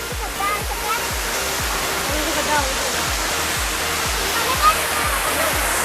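A man-made waterfall on a mountain walkway in Wadi Shees park, Sharjah, gives off a steady, full rushing roar of falling water that stays even throughout, close and continuous.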